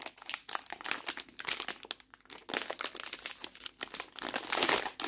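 A crinkly wrapper on a low-sugar choco-pie style dessert is torn open, loud close crackling and rustling bursts in an uneven run of crumples, briefly pausing before a final dense crinkle.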